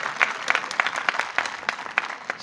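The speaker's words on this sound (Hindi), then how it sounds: "इन दोनों के लिए जोरदार ताली हो जाए इस मौके पर" An audience at a community gathering claps for the national president and general secretary, dense, lively applause with quick sharp hand claps close by and no pause.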